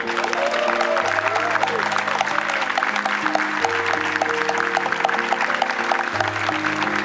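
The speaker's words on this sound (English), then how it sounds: "a big round of applause" A crowd at an emotional end-of-day gathering of a charity bike ride on a farm in Port Hope claps steadily and loudly throughout, with sustained music tones running underneath.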